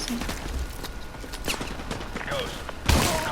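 Gunfire in a video game, with a pump-action shotgun among it: scattered sharp shots crack through a busy mix, ending in one louder heavy blast, with voices murmuring underneath.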